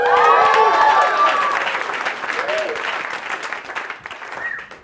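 Comedy club audience applauds, loud dense clapping that gradually thins and fades, with a voice speaking over the tail end.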